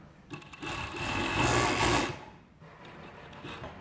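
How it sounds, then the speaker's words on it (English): An industrial serger overlock machine stitches fabric in a steady, fast whirring run that swells louder in the middle, then drops to a lighter hum. "I'm serging this fabric."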